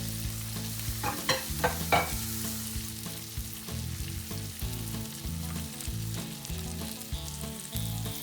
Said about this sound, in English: So the bottom's going to get crispy, top will be soft, kind of like a Spanish potato hash brown pancake.